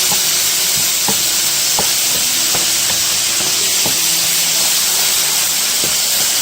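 Peas being stirred into sizzling cottage beef pie filling in a pan: a loud, steady hiss of frying runs throughout, punctuated by regular scrapes and taps of the stirring utensil.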